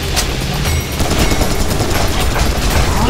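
Dense, continuous gunfire and rattling automatic bursts in a hectic shooter video game on hard difficulty, loud and close, rolling on without pause for about three seconds.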